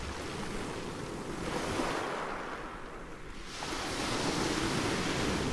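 Ocean waves rolling onto a sandy beach with a light breeze, a continuous broad wash of surf that swells and eases gently, fairly soft with no voices.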